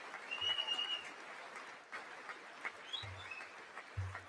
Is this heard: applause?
yes